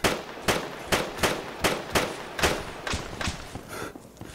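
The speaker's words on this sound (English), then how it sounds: "I hear that HMG fire from northeast" Heavy machine gun fire in ArmA 3, a run of about ten sharp, loud, evenly spaced shots at roughly two per second, growing slightly fainter and more distant toward the end, with no talk.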